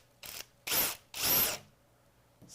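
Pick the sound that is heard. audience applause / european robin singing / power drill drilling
power drill drilling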